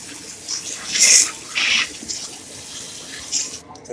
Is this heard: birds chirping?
no